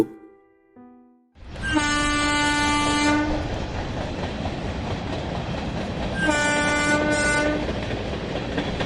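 A train departs with a loud sustained horn blast, then rumbling wheels and clatter build, and a second horn sounds a few seconds later.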